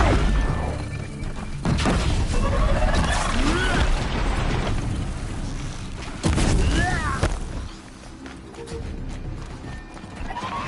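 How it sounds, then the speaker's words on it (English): Booming explosions in the action game Horizon Zero Dawn, with heavy broadband bursts over a busy backdrop of whinnying machine-creature cries and clattering mechanical noise. "An explosion."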